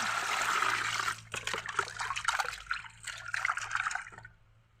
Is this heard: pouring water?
yes